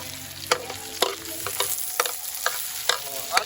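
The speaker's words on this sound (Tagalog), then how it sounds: "Yan po ang pagluluto sa probinsya." Shells being sautéed in a pan in a provincial home kitchen: steady frying sizzle broken by sharp scraping stirs about every half second, close and fairly loud, with no talking.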